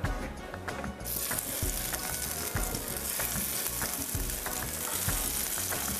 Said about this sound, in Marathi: आम्ही हे मस्तपैकी शालो फ्राय करून घेतो